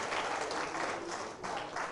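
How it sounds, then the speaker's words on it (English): An audience at a DXN networking company presentation gives a brief round of dense, even applause that fills the room for about two seconds. "Can you please give a round of applause?"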